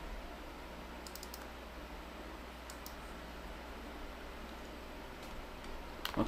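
Someone typing and clicking on a computer keyboard: a few faint, sparse clicks in short bursts over a steady background hum.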